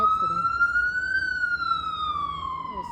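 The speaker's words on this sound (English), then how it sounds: "Ambulance making a lot of noise." An ambulance siren wails outdoors on a street near grand estates, a loud rising then slowly falling electronic tone sweeping across the whole clip, close by and without speech.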